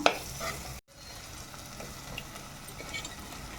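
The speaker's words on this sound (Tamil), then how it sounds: "இப்போ நம்ம இந்த ஸ்டேஜில் கருவாடு சேர்த்துக்கலாம்" Dried anchovy frying with tomato masala sizzles steadily at close range, with a brief clatter at the start, a short dropout of sound, then a continuous soft hiss.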